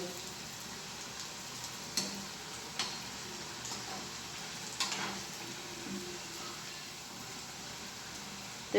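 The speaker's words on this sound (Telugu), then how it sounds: "ఎంత బాగా ఫ్రై అవుతున్నాయో" Punugulu fritters made from curd-soaked batter deep-fry in hot oil, a steady close bubbling sizzle with a few faint ticks and taps.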